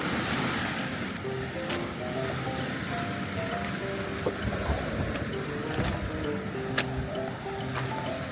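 Ocean waves wash continuously against a rocky, shell-strewn beach at Doctors Point, a steady surf roar with wind and no talking.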